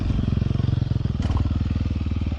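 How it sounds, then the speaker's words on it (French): A Sherco 300 converted to supermoto brakes hard into a stoppie, its engine giving a loud, rapid pulsing thrum close by, with a short rushing scrape partway through. "on va se tenter un petit stoppie. Premier petit stoppie."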